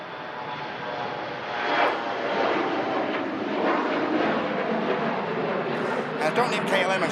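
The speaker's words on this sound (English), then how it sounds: "I love these KLM Embraer E19 75s" A KLM Embraer E175 jet with winglets departs Manchester Airport in strong gusts, its engine roar steady and fairly loud for several seconds, swelling slightly near the start; a voice talks over it.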